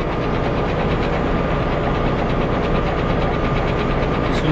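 A tractor engine runs steadily while working a farm field, a constant loud, close mechanical drone with a faint rhythmic pulsing and no pauses.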